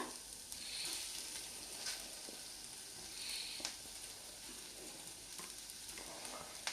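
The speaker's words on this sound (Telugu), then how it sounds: "ఈ మామిడికాయ ముక్కలు వేస్తున్నాను, ఒక కాయ." Large raw mango pieces frying in a pan for an Andhra-style mango and cashew curry, giving a faint, steady sizzle with soft intermittent clicks of stirring.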